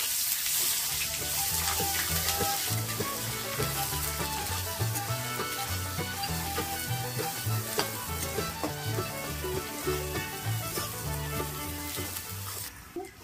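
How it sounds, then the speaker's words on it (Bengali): Sliced onions drop into hot oil already seasoned with dried chillies, a bay leaf and panch phoron, sizzling and crackling loudly and steadily while a utensil stirs and scrapes the pan. "কোঁচানো পেঁয়াজ দিয়ে দিচ্ছি"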